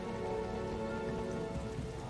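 Steady rain falls in World of Warcraft as a dense, even patter on surfaces under a low droning hum, with no break through the whole stretch.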